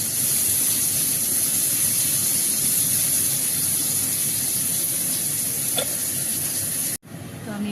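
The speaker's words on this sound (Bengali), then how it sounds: "পেঁয়াজটা একটু ব্রাউন করে ভেজে নেব।" Onions fry in hot oil after potatoes, giving a continuous bright sizzle close by for several seconds before cutting off abruptly near the end into a quieter hiss.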